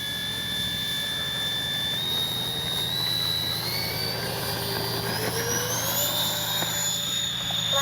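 FMS 70mm A-10 Thunderbolt II V2 twin electric ducted-fan RC jet spooling up for takeoff, a steady loud whine and rushing roar that rises gradually in pitch, close and continuous, with no talking.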